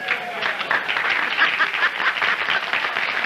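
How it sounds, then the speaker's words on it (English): A studio audience applauds in a dense, steady burst of clapping that holds at an even level for a few seconds, with faint laughter mixed in. "That's a good applause"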